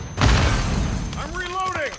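A grenade explosion in the video game Call of Duty Modern Warfare II, a single heavy boom with crackling debris that decays, followed by a voice talking.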